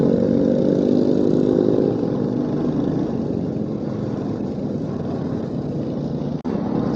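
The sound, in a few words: Royal Enfield Hunter 350 motorcycle engine with altered silencer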